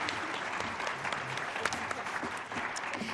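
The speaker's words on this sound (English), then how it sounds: "if we can have one more round of applause for this panel" A conference audience gives a panel a full round of applause: steady, dense clapping from many hands, heard at a moderate distance throughout.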